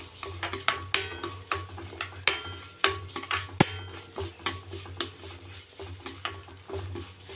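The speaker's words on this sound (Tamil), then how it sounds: "ஒரு 1/4 கப்பு அளவுக்கு ரவை, வெள்ளை ரவை, அதை போட்டு நல்லா வறுத்துக்கலாம்" White semolina roasting in ghee in a pan, stirred with a metal spoon that scrapes and clinks against the pan in an irregular rhythm, with a faint low sizzle underneath.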